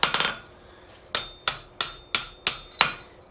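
Blacksmith hammer striking hot steel on an anvil while bending a forged mason jar candle holder: a quick triple tap, then five sharp ringing blows at a steady rhythm, close and loud.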